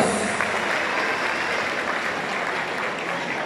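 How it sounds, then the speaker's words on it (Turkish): An audience at a mosque construction project presentation applauds together in a steady, sustained wash of clapping that holds evenly throughout. "Hep beraber alkışlıyoruz."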